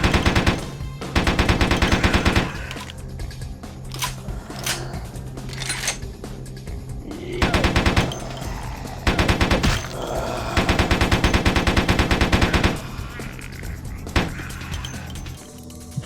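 Repeated gunfire from a vampire action role-playing game, with bursts of rapid automatic shots and single loud cracks spread across the stretch amid game effects.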